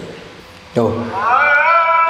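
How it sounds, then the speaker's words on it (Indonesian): A cat lets out one long, drawn-out meow with a rising, wavering pitch. It starts abruptly after a quiet moment and carries on to the end, loud and close, from a compilation of funny cats and kittens. "Funny Cats, Cute Cats and Kitten Meow Video Compilation"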